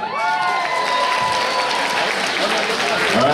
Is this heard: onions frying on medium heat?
no